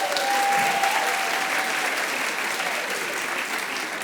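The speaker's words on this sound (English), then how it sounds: "Give them a round of applause." Live comedy show audience breaking into sustained, loud applause, a dense steady wash of clapping that holds for several seconds with light crowd noise underneath.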